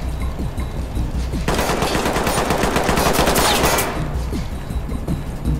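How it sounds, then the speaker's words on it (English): Gunfire in the tactical shooter Ready or Not, loud close bursts of rapid automatic shots, with the densest sustained volley in the middle and scattered single reports before and after. "I'm just blind firing through the cover just like my AI"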